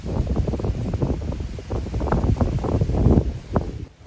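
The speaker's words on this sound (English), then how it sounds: "it's getting windy out here." A steady ocean breeze blows outdoors, buffeting the microphone with a low, rumbling wind roar that swells and dips for about four seconds before easing off at the end.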